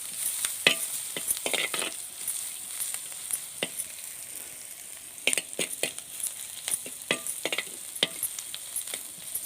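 Crushed spices dropped into hot oil in a clay pot over a traditional stove, sizzling with sharp crackles and spits alongside intermittent stirring scrapes, fairly close and with no talking.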